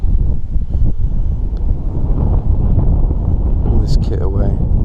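Strong wind on top of the Malvern Hills batters the microphone with deep, constant low rumbling and buffeting, and a voice comes through faintly near the end.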